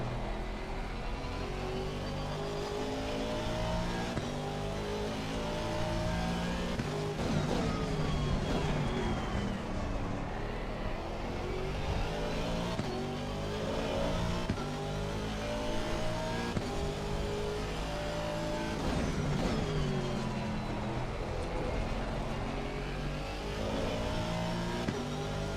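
Aston Martin GT3 race car engine in Assetto Corsa Competizione, revving hard and continuously with repeated upshifts and downshifts, loud and close throughout with no talk.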